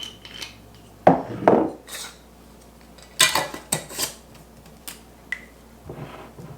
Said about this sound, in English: Then I'm gonna get a lid on this